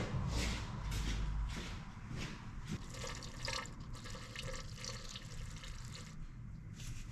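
Fluid pouring into a 2021 Polaris General XP during refilling, a close, quiet gurgling trickle that runs steadily, with a few louder glugs early on and no talking.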